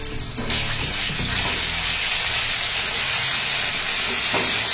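Mustard seeds and green paste frying in hot oil give a steady, close hiss and sizzle, with a few faint pops near the start and no voices.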